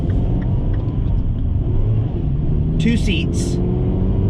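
A 2013 MINI John Cooper Works GP, a loud two-seat race-bred hatchback, fills the clip with a deep, steady engine rumble from inside the car, with a voice speaking over it.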